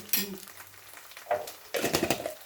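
Mallow greens sautéing in a pan, with crackling sizzle rising in bursts as the contents are stirred, close and moderately loud, mixed with scraping and a brief low hum early on.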